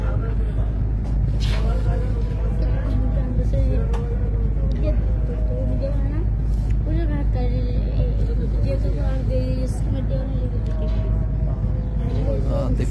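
A passenger launch's engine works in reverse gear at a river landing, a heavy continuous low rumble close by, with people talking over it.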